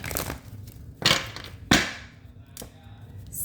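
A deck of tarot cards being shuffled by hand, heard as a few sharp, papery riffling bursts spaced about half a second to a second apart, close and fairly crisp against a quiet room.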